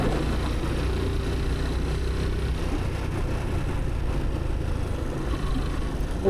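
An automatic vehicle rides along a road in Bhusawal, its engine giving a steady, close, continuous drone throughout with no talk.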